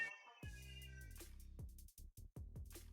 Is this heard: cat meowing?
yes